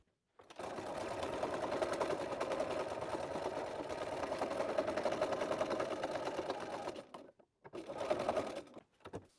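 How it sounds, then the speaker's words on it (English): A sewing machine stitches a seam on a quilted tote bag, running in a steady fast whir for several seconds, pausing briefly, then running again in a short burst, close and alone. "as I'm sewing the seam, I know where to stop, and I'm going to back stitch at that point"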